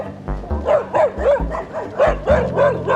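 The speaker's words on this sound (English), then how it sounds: "And vicious dogs, vicious." Dogs on an island bark repeatedly in a quick, rhythmic string of loud, close yelping barks, with a few whimpering tones in between.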